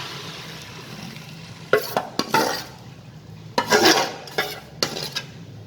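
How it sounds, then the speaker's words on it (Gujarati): Handvo batter with white sesame seeds going into a hot pan for a Gujarati vegetable handvo: a soft background sizzle broken by several bursts of louder frying and spoon-against-pan scraping. "હવે આ જે ખીરું તૈયાર કર્યું છે એ હવે આપણે આમાં નાખી દઈશું"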